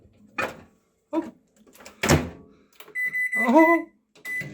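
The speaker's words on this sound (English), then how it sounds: "Now you've got to put the pizza in the middle of the microwave." A microwave oven heating leftover pizza gives short door clunks and handling knocks, then a run of electronic beeps with a brief hum, close and clear, with no talking.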